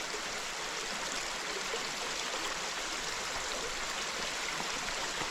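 Water running steadily from a tap, a constant smooth hiss and trickle that holds at an even level the whole time with no voices.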